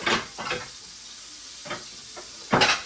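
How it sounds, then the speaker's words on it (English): Short bursts of hissing sizzle as shrimp fry in a hot pan, several spaced spurts with quiet gaps between, close by and no talking. "The only thing with frying shrimp is it destroys the kitchen."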